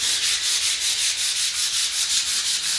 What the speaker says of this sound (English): We're gonna do a quick hand sand with 220.